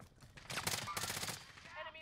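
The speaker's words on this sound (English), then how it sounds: "Enemy marked, they're shooting at me!" Rapid bursts of video game gunfire crackle in a tight cluster, fairly loud, with a voice talking over part of the exchange.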